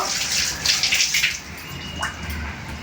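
Tap water runs steadily as food is washed under it in a home kitchen, a close, continuous gush with faint splashes and drips and no talking.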